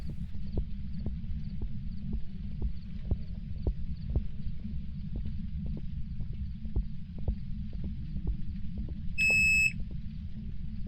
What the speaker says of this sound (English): I just heard a loud beep